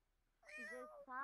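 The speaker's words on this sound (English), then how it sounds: "Y'all, look at these cats." A cat meows in The Sims, a fairly close, drawn-out call with a rising then falling pitch, followed right away by a second shorter meow.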